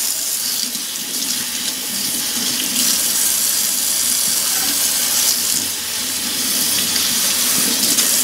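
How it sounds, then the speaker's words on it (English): Tap water runs steadily into a kitchen sink while kale is washed under it, a loud, close, continuous splashing hiss with no talking. "Now we're going to wash some of the kale."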